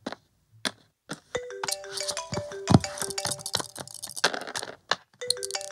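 A mobile phone ringtone in a Telugu film scene plays a repeating electronic melody of sustained tones, entering after a few soft clicks and rustles and continuing steadily with brief gaps.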